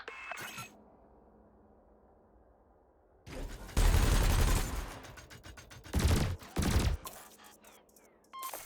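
Ship weapons in the space combat game Elite Dangerous fire at floating cargo canisters in loud bursts, with short pauses between volleys over a low hum.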